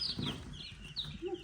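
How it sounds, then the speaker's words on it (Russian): A domestic Adler silver hen gives a few short, high clucks in quick succession, fairly near and soft, with a faint low rustle underneath. "Это обычная птичка домашняя, так, адлерская серебристая."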